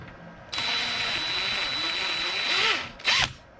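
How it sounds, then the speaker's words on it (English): A power drill with a hardened 1/8-inch bit bores into a fan screw, a loud steady high whine that rises in pitch near the end, then stops, followed by a short sharp burst of drilling. "I'm gonna plow with my drill bit"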